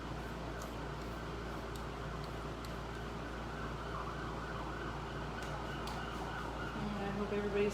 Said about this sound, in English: I always say a prayer whenever I hear the ambulance